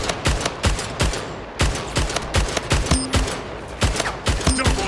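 Battle rifle fire in Splitgate rings out in sharp, evenly spaced bursts of close, loud shots, with brief game tones between them and no talk.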